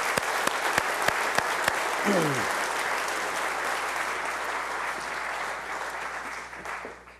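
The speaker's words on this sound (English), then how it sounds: "So let's give them all a nice round of applause." Audience applause for volunteers at a city State of the City address, a broad sustained wash of clapping from a large hall that holds steady and then tapers off at the end, with a few sharper claps near the start.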